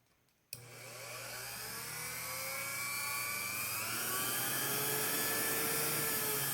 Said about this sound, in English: this is a little variable speed, like mini grinder that I got at Harbor Freight